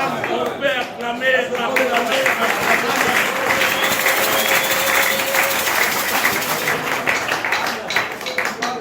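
A prison congregation applauds and cheers during a sermon, steady dense clapping with voices mixed in, loud and sustained throughout.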